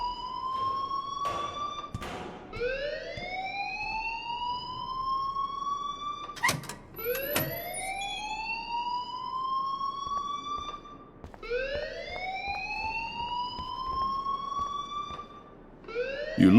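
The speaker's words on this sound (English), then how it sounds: "please turn off that alarm since that's your job" An alarm sounds in Life is Strange Remastered: a loud rising siren-like wail repeating in long sweeping cycles, interrupted by a few sharp knocks and clatters, no speech.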